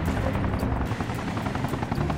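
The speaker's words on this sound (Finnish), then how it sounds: "helikopteri tippuu alas" A helicopter in the video game Arma Reforger drones continuously with a dense rotor and engine roar, steady and fairly close, with no talk over it.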